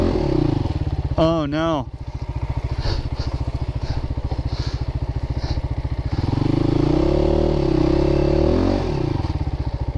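Christini AWD 250DS all-wheel-drive dirt bike with front-wheel drive engaged, engine revved hard close up in a loud throbbing buzz, with wheel spin and clattering, while a rider briefly speaks.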